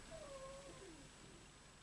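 A soft, drawn-out cat meow with a little wavering trill, faint against a quiet background hum.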